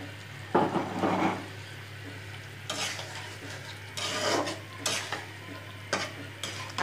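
Marinated bata fish dropped into hot fried spices in a pan, sizzling and frying with bursts of stirring and scraping, fairly close and steady, no talk.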